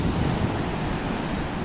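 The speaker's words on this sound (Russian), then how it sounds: "Море, ребят, наслаждайтесь морем" Sea waves wash steadily against the Crimean coast, a continuous close surf roar mixed with wind noise on the microphone.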